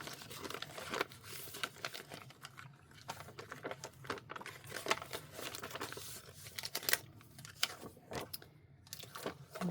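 Sticker sheets are handled close-up, with continuous soft crinkling and crackling of plastic and paper and frequent small sharp rustles at a steady, busy pace.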